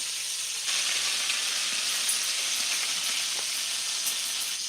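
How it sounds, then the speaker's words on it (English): Scallops searing in a hot mixture of butter and oil, a steady bright hiss and sizzle that swells slightly after the first moment and holds evenly close up, with no voices. "this is a mixture of butter and oil so that you can kind of get it at a nice higher temperature than just butter, which gives you that lovely little crisp sear on it"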